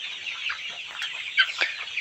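Tiger chickens clucking on a poultry farm, a steady run of soft, close clucks and chirps with a couple of louder squawks near the end, no voices.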